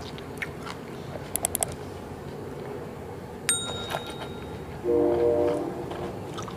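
A passing train rumbles in a quiet outdoor setting, with scattered clicks and rattles, then a loud, sustained horn blast near the end that fades slowly.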